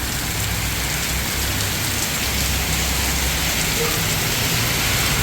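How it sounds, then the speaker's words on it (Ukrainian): Steady rain falls throughout in Surat Thani, Thailand, a dense hiss of drops pattering on surfaces, close and even with no pauses. "нас тут вийшов маленький дощик"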